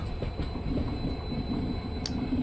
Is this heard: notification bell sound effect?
no